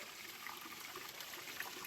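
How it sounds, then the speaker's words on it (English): A small mountain brook trickles steadily along a hiking trail, a soft, continuous wash of running water, fairly faint and alone with no talk. "I can see that I'm going to cross this little brook"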